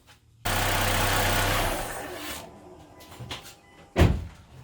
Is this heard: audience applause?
no